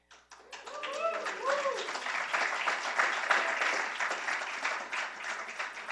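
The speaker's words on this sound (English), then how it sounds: "Oh, you clapped too soon." Audience clapping at the Asylum Hill Neighborhood Association's 25th anniversary celebration ceremony: a dense, steady wash of many hands that swells in after a brief voice at the start and keeps going for several seconds.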